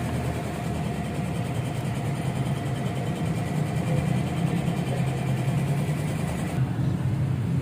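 A Viar VSR 200 motorcycle engine idles nearby with a steady, rumbling putter that holds even for several seconds, loud and close.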